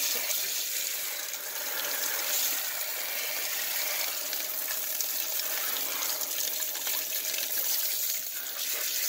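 Tap water runs steadily over moly-coated copper-jacketed bullets as they are rinsed, a constant close splashing gush with no pauses.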